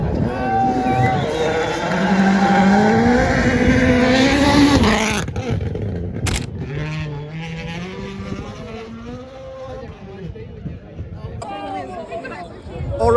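WRC rally cars on a stage in Portugal rev and accelerate hard, engines rising loudly then dropping away as they pass, followed by further engine sounds from more distant cars with occasional talk nearby.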